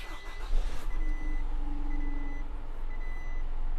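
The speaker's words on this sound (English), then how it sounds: "Now I'm going to go ahead and start the truck so that we can see what that looks like on the dash." A 2022 Isuzu truck engine starts with a surge of noise, then settles into a steady idle while electronic beeps sound repeatedly over it.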